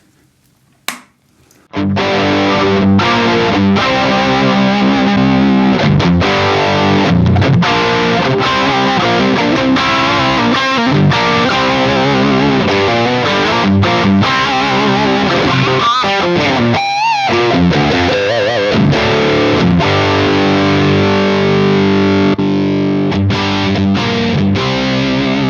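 Distorted electric guitar played through an Orange TH30 amp head on its plexi setting, a loud continuous stream of crunchy chords and riffs that starts after a brief pick noise and runs steadily to the end.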